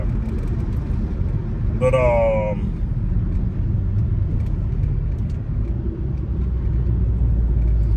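Steady low rumble of a car interior while driving, road noise continuous throughout, with someone briefly speaking over it.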